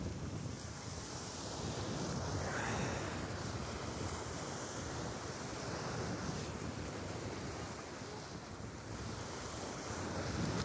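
Strong wind blowing at a sea shore on the Azerbaijan coast during fishing, a steady loud rush of wind and microphone buffeting mixed with surf, continuous and without speech.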